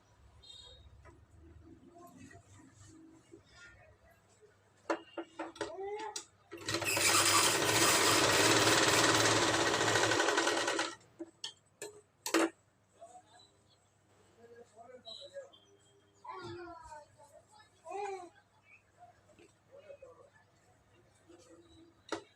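A sewing machine runs in one loud, continuous burst of about four seconds as it stitches a blouse lining, with someone talking before and after it and a few clicks and knocks from handling the fabric.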